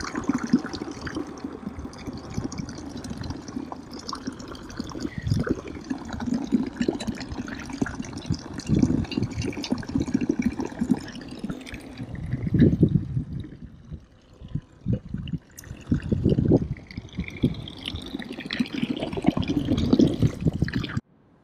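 Fresh mountain spring water in Switzerland runs and splashes steadily close by, a continuous gurgling pour with shifting intensity and occasional rustling handling noises.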